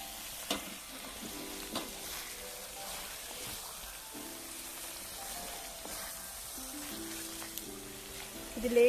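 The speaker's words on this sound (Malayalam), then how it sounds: "ഇത് നമുക്ക് വറുത്ത് വെച്ചിരിക്കുന്ന ചെമ്മീൻ അതിലേക്ക് ചേർത്ത് കൊടുക്കാം" Fried prawns stirred into hot oil and masala for a Kerala-style prawn roast, a close, steady sizzle with scraping and light clinks of a spatula against the pan.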